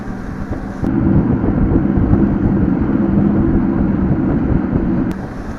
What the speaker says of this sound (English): Then out here, feel how windy it is.